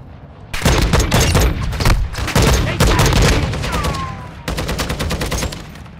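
Loud bursts of sniper and rapid gunfire in a shooter video game, with several dense volleys separated by brief gaps, close and heavy over a rumbling low end.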